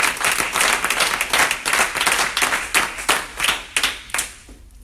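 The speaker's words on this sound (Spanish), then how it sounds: "Dale un aplauso a Cristo." A church congregation claps together in praise during a Spanish-language worship service, the hand claps loud, close and steady in a fast, roughly even rhythm that thins out near the end.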